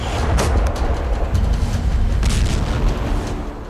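Ukrainian artillery attack on Russian forces in the Russia–Ukraine war: loud, heavy booms and rumbling blasts overlapping in quick succession, with a constant low roar throughout, no voices.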